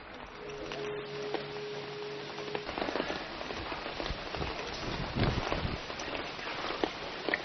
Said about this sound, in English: I've managed to find myself a relatively dry spot as it's just started raining